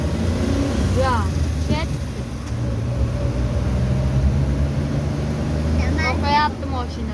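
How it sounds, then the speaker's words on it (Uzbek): Heavy road traffic in a jam, with dense engine rumble from many cars nearby and a few horn-like tonal bursts. Someone speaks briefly over the noise. "Mashinalar o'ta ko'p."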